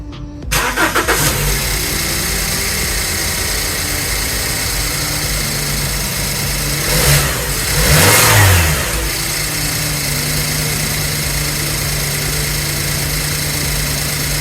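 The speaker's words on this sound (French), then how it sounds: "Je vais pouvoir démarrer avec uniquement du nettoyage injection." A BMW 318i engine cranks and catches, then runs at a steady idle with a brief rise in revs partway through, loud and close, running only on an injection-cleaning machine.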